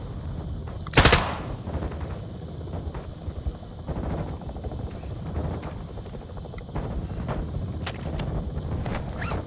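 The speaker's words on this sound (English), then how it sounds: "Taking fire." Gunfire in Call of Duty: Modern Warfare II, a loud sharp burst early on followed by scattered rapid shots and rattling automatic fire under a constant background roar, with no talk.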